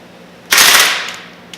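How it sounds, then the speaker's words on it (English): A single sharp burst from an American Airsoft Factory airsoft gun as it jams, a short loud crack that trails off over about a second, followed by a faint click, with no talking. "That's what it should sound like when your gun jams."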